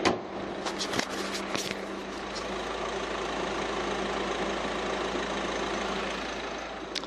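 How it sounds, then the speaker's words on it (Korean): The 1.6-litre diesel engine of a Peugeot 308 idles steadily with the hood closed, a muffled, even rumble after a couple of faint clicks at the start, heard alone and close. "이 정도의 엔진 소음 기대하실 수가 있는 차량입니다."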